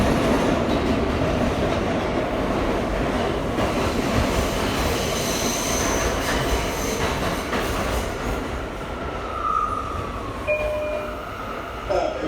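An R179 J subway train pulls into Broad Street station, a loud rumbling roll that eases down with wheel screeches and a few high squeals near the end, no talking.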